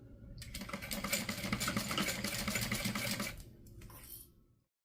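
A sewing machine stitching fabric for a custom sew-along project: a close, loud rapid whirring run for about three seconds, a short pause, then a brief second burst before stopping.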